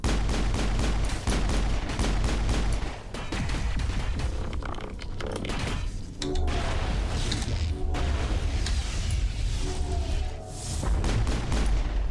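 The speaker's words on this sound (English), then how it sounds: "Is Garrus even shooting his gun?" Gunfire from the video game Mass Effect crackles in rapid bursts and single shots, with booms and game effects in between, fairly loud and continuous with no talking.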